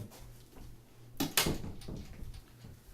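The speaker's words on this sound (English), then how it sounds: "Sorry, needed to close a door." A door closes in a room, a couple of short thuds and a knock-like impact near the middle of a quiet stretch, with faint room noise around it and no talk.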